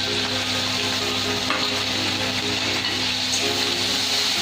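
Water poured into spice masala with ginger paste frying in hot oil for a Bengali chicken roast, a steady loud sizzle and bubbling hiss with faint stirring, close and continuous.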